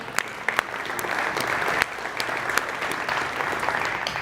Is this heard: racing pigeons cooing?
no